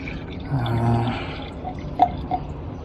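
Water runs and gurgles down a kitchen sink drain just cleared of a clog with a pump gun, with a faint steady flow and a few drips and splashes close by.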